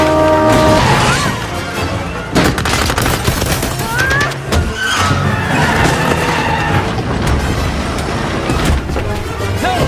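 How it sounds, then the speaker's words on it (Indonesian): Cars collide and skid during a chase in the Indiana Jones film Dial of Destiny, with loud tyre screeches, metallic impacts and rapid gunfire-like bursts layered with a dramatic score throughout. "mereka diserempet oleh kedua mobil dari anak buah Fowler."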